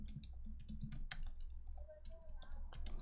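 Keys on a computer keyboard patter in quick irregular clicks over a low steady hum, with a faint tone briefly rising in the background.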